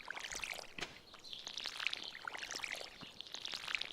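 Crops being watered from a watering can in the farming video game Stardew Valley: a bright, steady pouring splash with small sparkling droplet chimes layered on top, continuous and fairly close, with no talking.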